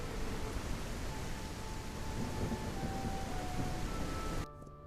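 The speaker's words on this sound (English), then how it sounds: "The storm has only gotten worse." Steady broadband rain with low rumbling thunder from a stormy farming video game, a dense continuous wash that holds level and then drops abruptly near the end.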